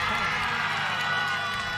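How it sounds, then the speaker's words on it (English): Teammates cheering from the grandstand at a youth archery recurve final in Wroclaw, a steady, loud wash of crowd voices that holds evenly throughout. "Big cheer from her teammates in the grandstand."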